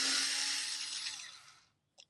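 A Dovaman E009A 4V cordless screwdriver whirs near the mic, its small motor spinning steadily and then fading to silence, followed by a brief click.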